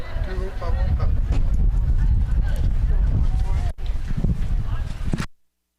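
Harness racing horses' hooves clatter on a racetrack in a steady, loud rhythm, with crowd and announcer noise underneath, then cutting off abruptly near the end.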